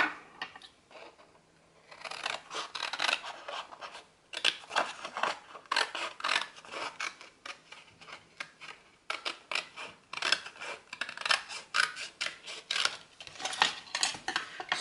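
Scissors snip and slice through cardboard and paper in a craft setting, close and crisp, in irregular bursts of cutting strokes with short pauses and no talk.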